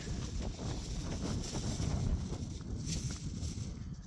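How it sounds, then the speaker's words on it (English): Steady wind noise at a lakeside campsite buffets the microphone, a low constant rushing roar with no voices. "it's getting windy"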